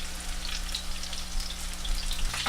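Salmon searing in a hot pan, a steady close crackling sizzle with fine spitting pops and a low hum beneath, no voices.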